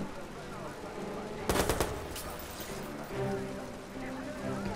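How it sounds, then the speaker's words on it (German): Gunfire from the Watch Dogs video game: a short, dense burst of rapid shots in the middle of the clip, with talking heard throughout. "Oh, Schüsse, Schüsse."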